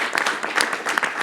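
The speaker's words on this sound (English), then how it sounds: "let's give him a round of applause." A brief burst of audience applause at a conference talk: close, dense clapping with individual claps popping out over about a second.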